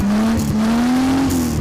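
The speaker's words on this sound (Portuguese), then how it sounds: "O ronco do motor chama a atenção." An all-original 1973 Ford Maverick classic car at a car show gives a loud, close engine roar whose low tone climbs slowly as it revs, heard on its own without talk.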